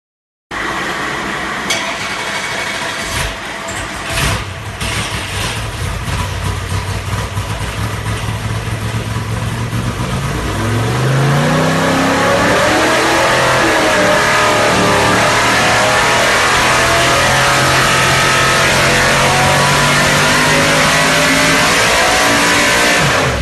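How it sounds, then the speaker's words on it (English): A Lykins Motorsports Ford all-aluminum 460 cubic inch V8, a 720-horsepower Clevor build, runs loud and steady, idling roughly before revving up around the middle and holding a strong higher-pitched drone with no talking. "you'll still be able to hear the engine run"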